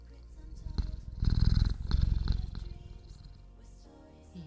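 A cat purrs loudly and steadily right against a microphone while lying on someone's lap, the close rumble swelling in rhythmic waves with a few rustles and bumps.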